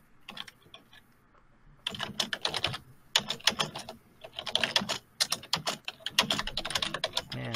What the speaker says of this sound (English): Man, do I hear that typing?